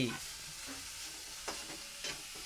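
Dill greens (shepu bhaji) stirred and frying in a pan, a continuous sizzle with a few sharper spoon scrapes against the metal, no talking.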